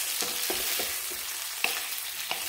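Potatoes for aloo methi frying in a pan, a steady close sizzle with a few sharp stirring scrapes and taps of a spatula, no voices.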